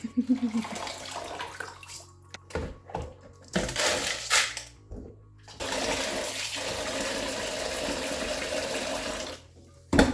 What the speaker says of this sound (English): I'll soak it like that and see if more of them will come off by the time it's soaked.